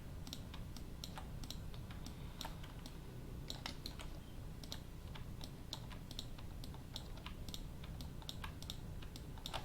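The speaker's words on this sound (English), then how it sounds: "I'm just holding V on the keyboard" A computer keyboard clicks steadily during 3D car modeling work, with quick, light keystrokes at an uneven pace, close up and fairly quiet over a constant low background hum.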